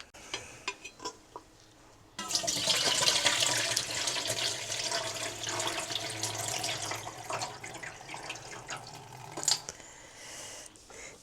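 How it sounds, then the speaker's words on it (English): Dandelion-dyed fabric rinsed under a running tap: after a couple of seconds of quiet handling, a loud steady rush of water with splashing and wet cloth sloshing fills the rest, easing slightly toward the end. "I'm going to rinse and dry and I'll show you the results soon."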